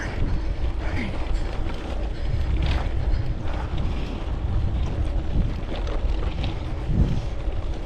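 Steady, loud headwind buffets the microphone throughout, a constant low roar with gusty swells and some mechanical creaking mixed in, no talk.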